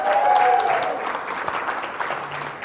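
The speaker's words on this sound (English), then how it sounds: "Let's clap it up one more time for your worship team" A church congregation at a live Sunday service claps for its worship team, with dense, sustained applause filling the room for the whole stretch and a few brief vocal sounds mixed in.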